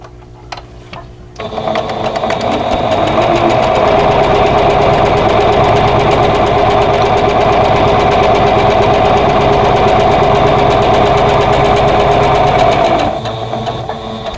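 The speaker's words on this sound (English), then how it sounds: "this time I'm going to sew right on the drawn line" A sewing machine runs steadily, stitching a large vintage quilt block along a drawn line in one continuous, loud burst of whirring that starts after a brief pause and stops near the end.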